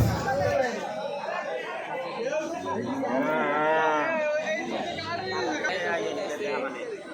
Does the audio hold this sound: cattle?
yes